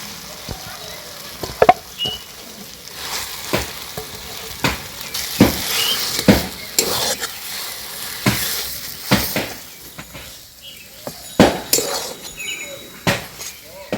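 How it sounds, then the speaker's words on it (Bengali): Potato pieces fry on a spice mixture in a pan, a constant sizzle broken by sharp metallic scrapes and clanks of a spoon stirring against the pan, irregular and close. "এবার এই মশলাটার উপরে আলুটা দিয়ে দেবো"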